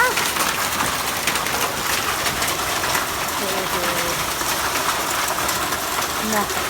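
Dense, continuous patter of hailstones striking a balcony, loud and close, with faint voices in the background.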